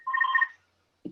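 A phone rings once in a short electronic burst of about half a second during an online talk, followed by silence and a brief low knock.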